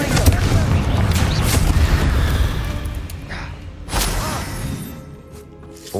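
A Confringo fire spell blast in Hogwarts Legacy lands with a loud booming burst over dense battle noise, followed by another sharp impact about four seconds in.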